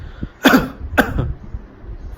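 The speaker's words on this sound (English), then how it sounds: "And the other exercise is you cough purposely. Take deep coughs" Two deep, deliberate coughs are pushed out on purpose as a lung-clearing breathing exercise. They land close together, loud and near, and nothing else is heard around them.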